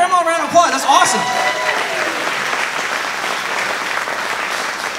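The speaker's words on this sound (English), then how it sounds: "Give grandma a round of applause" A church congregation breaks into sustained, dense applause for a grandmother during a Sunday service, the clapping swelling just after a brief voice at the start and holding steady to the end.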